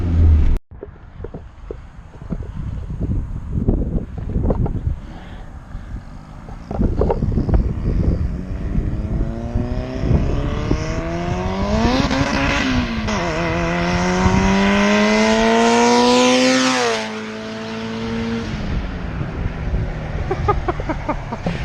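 A tuned, built single-cam motorcycle engine runs on the street, loud and close, revving hard with rising pitch sweeps that climb to a peak, then drop back to a rough rumble with wind buffeting.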